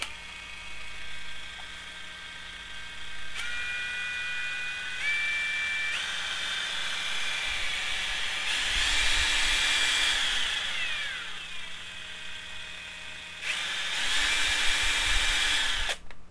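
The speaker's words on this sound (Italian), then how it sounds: "avvio l'avvitatore" A battery-powered cordless screwdriver runs with a whirring electric motor hum, revving up in bursts and holding a high whine, stopping and restarting several times; no speech.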